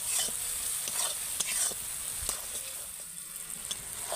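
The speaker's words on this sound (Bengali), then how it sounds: "মশলাটা কিন্তু একটু সময় দিয়ে ভালো করে নেড়ে নেড়ে কষিয়ে নিতে হবে" Bengali spice paste being stirred and fried in a pan for a lote fish curry: a steady soft sizzle with scraping clicks from the spatula at an irregular pace, fairly quiet and close, with no talking.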